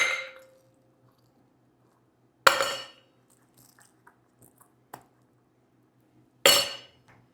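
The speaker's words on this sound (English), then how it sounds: "I'm going to be adding a couple of ice cubes, specifically 3 ice cubes to the bigger tin." Three ice cubes dropped one at a time into the larger tin of a cocktail shaker while mixing a Mexican Firing Squad cocktail, each landing as a loud, close metallic clank with a short ringing decay, separated by quiet pauses.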